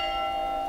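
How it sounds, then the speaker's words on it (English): Church bell in the main piazza of a deserted small Italian village, a sustained ringing tone hanging steadily in the air with no voices. "The bell in the main piazza rings out punctually to no one in particular."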